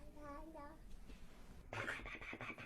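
An infant of about six months babbles in short, breathy vocal bursts, close and soft. A voice follows, and there is some handling noise near the end.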